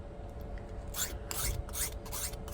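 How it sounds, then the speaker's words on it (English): A file rasping over-extrusion off the tip of a 3D printed propeller blade: four close, rough scraping strokes in steady rhythm after a brief quiet start, with no talking. "I'm going to file that off."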